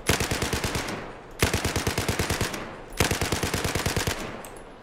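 A machine gun in the game Battlefield 4 fires three loud bursts of roughly ten to fifteen rapid rounds each, with short pauses between bursts, close and punchy with no talking.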